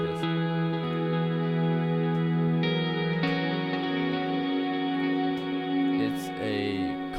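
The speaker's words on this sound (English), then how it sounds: "besides the vocal, I also have this electronic guitar patch here." A sampled electric guitar patch from a Kontakt library played through an amp rings out in sustained, slightly distorted chords, with a few note changes and a bright pick attack near the end, and no voices.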